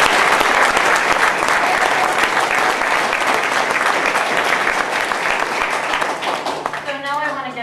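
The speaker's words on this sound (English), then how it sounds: "I'd like you to give them all a round of applause" A large audience at a Green Party of British Columbia leadership event applauds steadily and loudly for the whole stretch. The clapping is dense and sustained, easing slightly toward the end as a voice begins.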